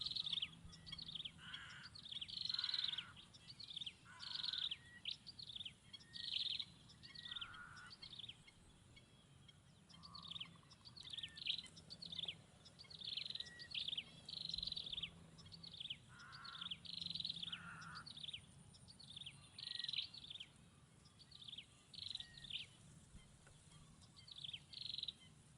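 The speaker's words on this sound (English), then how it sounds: "Burung menjadi salah satu satwa yang dominan menikmati kehidupan di kawasan" Birds in a mangrove forest call in a long series of bright, repeated chirps and short calls, some overlapping, over a quiet background.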